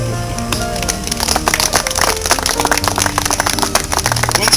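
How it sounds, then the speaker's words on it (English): Dense outdoor applause from a crowd at a new park playground's opening celebration, steady clapping that builds after the first second and continues loudly, with some low background hum or music underneath. "let's give that playground a great round of applause"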